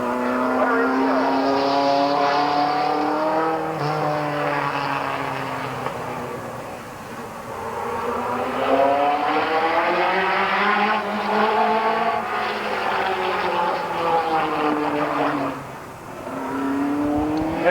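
Race cars qualifying at Midvale Speedway in 1988 send out a loud engine note that climbs and falls in long sweeps as a car laps the track, staying continuous throughout.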